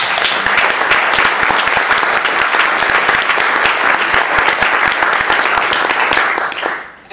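A large audience applauds the steering committee at the Partners Outdoors 2012 gathering: sustained, loud, crackling clapping from many hands that holds steady, then fades out near the end.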